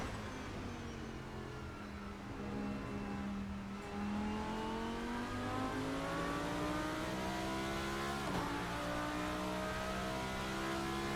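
Racing car engine in a sim racing game, driven on a new rig: a steady, loud engine drone that climbs in pitch through the gears, with shifts heard as brief dips and then more revving.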